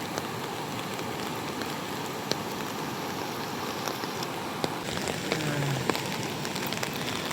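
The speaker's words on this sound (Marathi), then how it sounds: "बांधण्याच्या वरून पाणी गेलाय भरपूर पाऊस पडल्यामुळे" A steady, full rush of rain-swollen river water pours continuously over a small dam, close and loud, with no voices over it.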